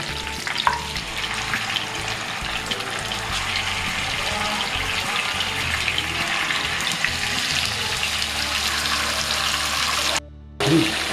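Chicken fries over a raised flame with cinnamon and mace in a pan for Bengali chicken kosa, a steady close sizzle with occasional stirring scrapes, ending in a brief gap and a faint clatter.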